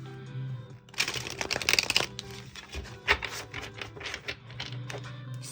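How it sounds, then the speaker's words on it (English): A deck of tarot cards is shuffled up close, with loose riffling bursts and several sharp snaps and taps of cards settling. No one speaks. "one more shuffle."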